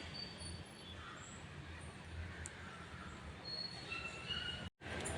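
A passenger train stands at a station platform at Udhna, Surat, Gujarat, heard as a steady close rumble and hum with a faint high wheel squeal, continuous for about five seconds with a brief dropout near the end.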